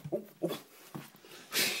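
A dog whimpers in short soft bursts at close range, several brief whines in a row, followed by a louder breathy sniff or pant at the end.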